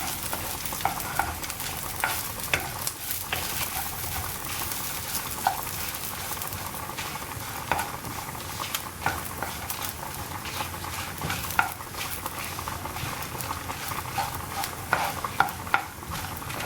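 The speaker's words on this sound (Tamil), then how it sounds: "செவக்க இது செவக்க வறுத்துவோங்க" Spices for mango sambar are dry-roasted in a pan, a close, steady crackling sizzle with frequent stirring scrapes and small ticks throughout.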